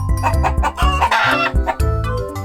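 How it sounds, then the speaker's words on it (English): Chickens cluck in quick bursts while a rooster crows through the middle, loud and close in a busy farmyard. "Chicken."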